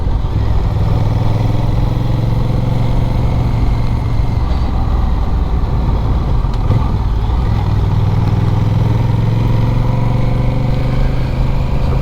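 A Honda Rebel 1100 motorcycle rides along a road at moderate speed during break-in, its engine drone steady and loud with a low rumble and wind rush, close and continuous, with no voices.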